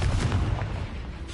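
A Confringo blasting spell explosion in Hogwarts Legacy, a brief, loud, dense booming blast that fills the whole short moment with rumbling noise.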